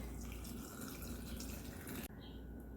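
Filtered water pours onto quartered, stemmed tomatillos in a blender, a steady, close rushing splash that runs continuously and cuts off near the end.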